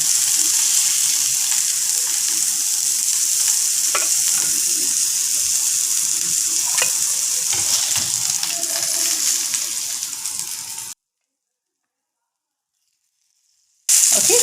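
Kotleti burger patties frying over a low flame, a steady close sizzle that runs unbroken for about eleven seconds, then cuts to silence before briefly resuming at the end.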